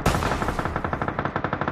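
Rapid automatic gunfire from a shooting video game, a fast, even burst of closely spaced shots running throughout at close range with no talking.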